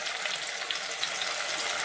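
Ground masala paste for a Konkani-style bangda (mackerel) curry hits a hot pan, giving a steady, even hiss of sizzling that holds at the same level throughout with no pauses.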